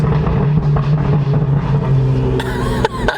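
A straight-piped BMW M2 with a Stage 1 Bootmod3 tune runs in sport mode, its exhaust rumbling and droning loudly up close, then ending in a burst of sharp crackling burbles.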